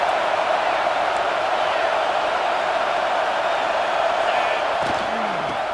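Stadium crowd roar in the College Football 26 video game during a third-down red zone play, a loud, sustained wash of noise with a few faint thuds near the end.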